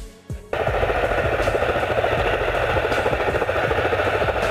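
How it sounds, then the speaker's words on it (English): A military transport helicopter thuds close and loud after a brief quieter start, its rotor beating in a fast rhythmic chop over a dense engine roar. "military transport helicopter, a helicopter designed to transport troops, equipment and supplies in military operations"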